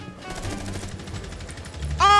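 Gunfire in the video game Rainbow Six Siege, a rapid steady burst of automatic shots heard at moderate distance, ending with a sharp electronic tone.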